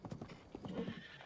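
Horse hooves clip-clopping in the video game Zelda Breath of the Wild, a quick run of fairly faint rhythmic thuds with a brief whinny-like tone in the middle.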